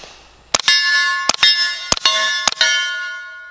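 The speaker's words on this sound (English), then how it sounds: "The bullet hitting the plate is actually louder than the gun itself." Bullets from a suppressed CZ Scorpion Micro strike a steel plate about 25 yards away. Four sharp metallic clangs sound at uneven intervals, and each one rings out with a long bright tone that decays slowly. No one speaks.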